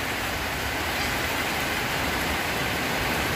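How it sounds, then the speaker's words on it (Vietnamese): Dense, steady hiss of rain falling, continuous and fairly loud with no pauses or voices. "giờ còn đang mưa nữa nè."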